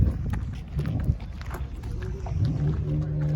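A car engine's exhaust rumbling low and uneven nearby, swelling in loudness toward the end, with some wind noise.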